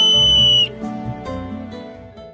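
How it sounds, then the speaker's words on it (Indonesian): A whistle hung on a necklace gives one loud, steady shrill blast lasting just over half a second. It then cuts off and leaves background music. "Ia menyuruh Min Kyung meniup peluit itu"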